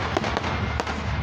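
Fireworks going off outdoors, a dense, loud crackling wash with several sharper pops and bangs over a constant rumble.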